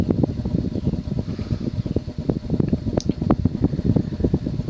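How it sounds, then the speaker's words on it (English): A 1981 Emerson Heat Fan 36-inch industrial ceiling fan runs with regular blades, giving a steady low whooshing drone with a rhythmic pulsing beat, close and moderately loud. "so this was their industrial fan."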